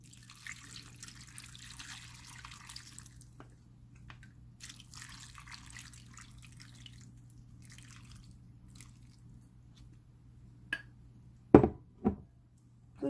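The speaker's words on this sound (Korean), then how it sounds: "그리고 아까 시기에 된장하고 고추장하고 걸러준 물을 부어주세요." Water strained from doenjang and gochujang is poured into a pot for spicy blue crab stew, a soft, faint trickle and splash in stretches, ending with a few louder knocks and drips.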